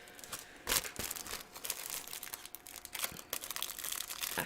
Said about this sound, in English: I have to open the package